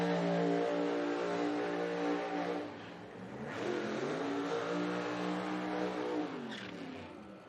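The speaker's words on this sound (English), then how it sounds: "Top Alcohol Funny Car ready to make some noise." A Top Alcohol Funny Car drag racing engine rumbles loudly, its pitch rising and falling through several revs, with a surge of roaring noise midway.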